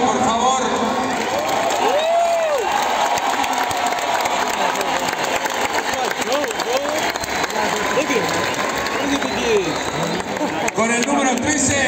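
A large stadium crowd in El Salvador applauds and cheers loudly and steadily as the Inter Miami lineup is announced, with whoops and shouts rising from the sustained clapping and a voice over the public address.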